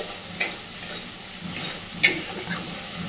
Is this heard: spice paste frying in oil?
yes